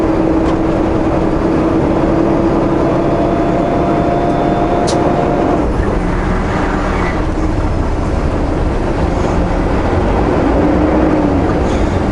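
A vehicle engine droning loudly as it gains speed on a mountain road, a tone rising and then dropping at a gear change partway through, with steady road and wind roar throughout.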